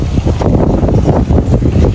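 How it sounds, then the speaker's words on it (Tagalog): Steady wind blows outdoors, a loud continuous rumbling rush of buffeting air against the microphone with no pauses and no voices. "Mahangin pero hindi naman malamig"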